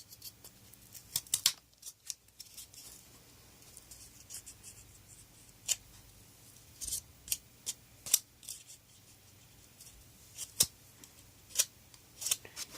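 Scissors trimming a homemade fidget spinner, a series of soft, sharp snips and clicks spread irregularly over a quiet background.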